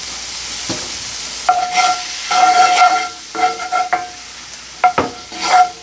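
Butter heating in a skillet for blackened catfish, hissing and sputtering in uneven bursts with a few sharp metallic taps of a spoon against the pan.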